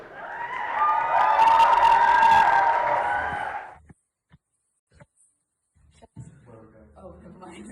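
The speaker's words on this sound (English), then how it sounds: "please give them a massive round of applause for doing this for us" A student-dance-show audience breaks into loud applause and cheering for about four seconds, a broad roar of clapping and voices, followed by near silence and then brief speech.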